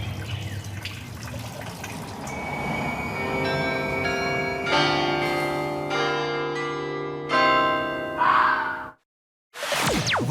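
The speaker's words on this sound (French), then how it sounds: "Vous avez pu reconnaître les cloches de Sainte-Gudule" Church bells of Sainte-Gudule in Brussels ring out in overlapping, resonant peals that swell and layer over several seconds, then break off briefly before resuming.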